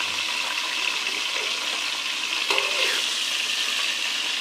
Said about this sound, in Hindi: तो घी हमारा गर्म हो चुका, अब हम इसमें गोश्त शामिल कर देंगे।